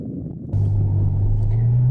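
Driving a 2014 Ferrari F12 Berlinetta with its front-mounted V12 brings a deep, steady engine drone heard from inside the car. It starts abruptly after a brief quieter moment and holds an even rumble.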